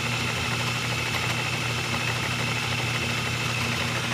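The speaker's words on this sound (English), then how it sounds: "Move it back to the idler, and it just idles along." A small engine idles steadily on the idler pulley of a mini camelback belt-driven machine, a constant close low hum with a faint even vibration and no pauses throughout.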